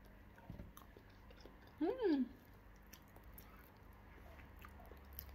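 A person takes a bite of soft ripe avocado, a brief moist chewing and squishing sound close to the mouth, with a quiet room and faint background noise around it.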